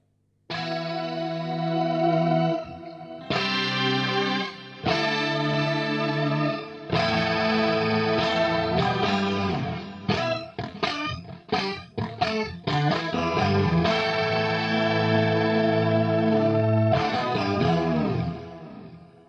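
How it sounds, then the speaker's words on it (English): Electric guitar through chorus, an octave pitch shifter and delay: loud sustained chords with shimmering doubled tones, a burst of quick choppy strums in the middle, then long ringing chords fading out, with no talk. "So you're getting pitch shift, chorus, bit of delay,"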